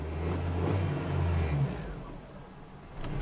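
Old Ford Escort engine running with a low, uneven idle hum that fades out as it stalls, leaving near silence before a brief bump of noise.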